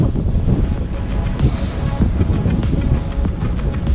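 Strong beach wind during kiteboarding batters the microphone with a heavy, continuous low rumble and gusting buffets, surf noise mixed into the roar throughout.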